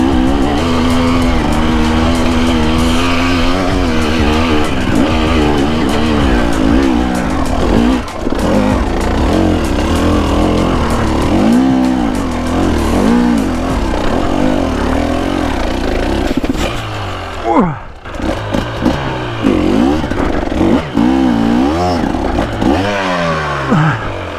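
A 2024 KTM EXC 250 dirt bike rides off-road downhill, its two-stroke engine loud and close, revving and dropping repeatedly with rapid throttle blips, a brief lull near the end before it picks up again.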